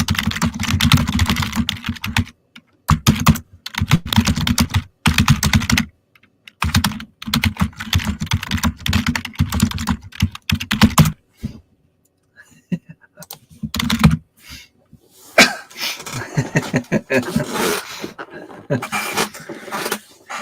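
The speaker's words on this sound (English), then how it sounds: "I try to type fast." Fast typing on a computer keyboard comes in dense bursts of rapid key clicks, close and loud, broken by short pauses, with no clear talking.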